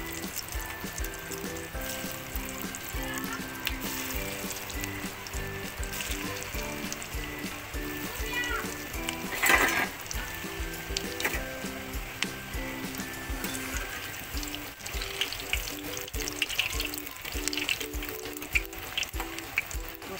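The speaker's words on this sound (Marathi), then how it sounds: "आपलं तेल गरम झालेलं आहे। आपण वड्या तळून घेऊ।" Pieces of methi vadi, a fenugreek-leaf snack, fry in hot oil with a steady, dense sizzle and bubbling that runs the whole time, close and even, with no talking.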